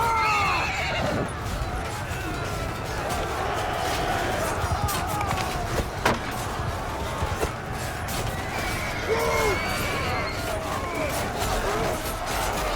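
In the Mount & Blade II Bannerlord video game, horses neigh and whinny over galloping hooves amid a loud, busy battle din, with a voice speaking now and then.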